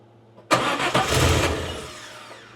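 A turbocharged DeLorean engine cranks and tries to catch, a sudden loud burst of starter and combustion noise with a couple of surges that fades over about two seconds without settling into a steady idle.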